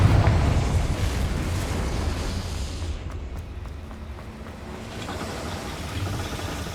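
Confringo fire spell blast in Hogwarts Legacy, a loud deep booming explosion opening the sound, followed by a rumbling, crackling tail that fades and then swells slightly again, with no speech.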